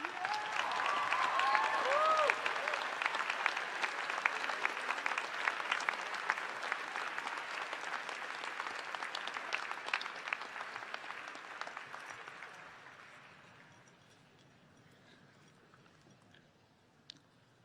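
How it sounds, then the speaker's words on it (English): A graduating high school class at the 2019 Westlake High School ceremony gives its faculty and staff a long round of crowd applause, which holds steady for about twelve seconds before fading away. "I now invite you to stand and applause to thank our faculty and staff"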